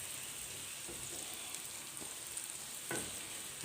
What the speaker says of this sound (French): J'ai mis mes oignons pour les faire blanchir.